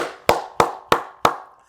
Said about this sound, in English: We'll go ahead and give up the first round of applause to Mike McDaniel